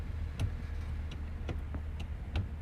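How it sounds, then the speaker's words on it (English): A Supreme gear shifter in a K24-swapped BMW E30 makes several soft, crisp clicks against a low, steady cabin hum. "Nice little click."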